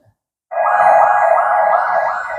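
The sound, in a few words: fire truck siren in played firefighter video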